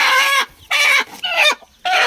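A black hen clucks loudly and close in three bursts of rough, repeated calls separated by short pauses, settled on a brooding nest.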